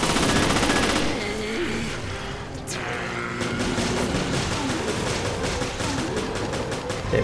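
Pistol shots in the Resident Evil Revelations video game, fired in a fast, steady sequence of sharp cracks over a constant droning background, with a loud blast of noise at the start.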